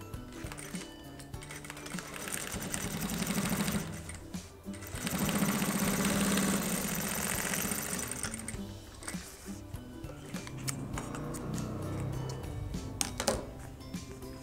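A sewing machine runs a finishing seam on a fabric bag, with bursts of rapid mechanical stitching separated by brief pauses and handling clicks, close and clear with no talk.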